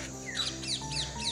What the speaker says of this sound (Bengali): আর এখন চারদিকে খালি পাখিদের ডাক শোনা যাচ্ছে